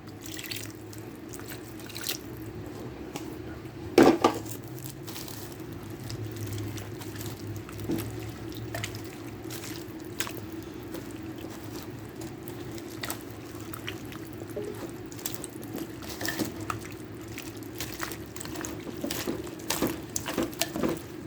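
Water trickles and drips into a slow cooker pot of taco soup over a long stretch, with scattered clinks and splashes against a low background hum.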